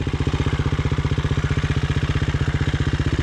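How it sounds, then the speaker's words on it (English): A dual-sport dirt bike engine thumps in a fast, even pulse, close and steady, out on a mountain ride. "Oh, there's another bike."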